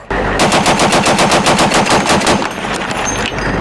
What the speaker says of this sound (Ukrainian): Відвоювати допомагає і такий броньований хамер, на якому встановлений американський кулемет Браунінг